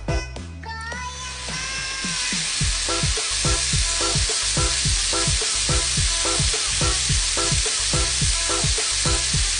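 Loud, steady sizzling of chicken frying in a hot pan for sweet and sour chicken, with a regular scraping rhythm of stirring throughout.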